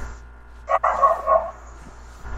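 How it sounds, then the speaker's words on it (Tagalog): A dog lets out a short, loud bark or yelp, close by, then goes quiet against a faint steady background hum. "Yung aso patahimik yun."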